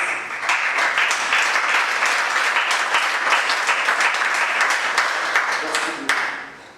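Audience applause fills the room at a spoken-word show, steady dense clapping throughout that fades out at the end, with no voices over it.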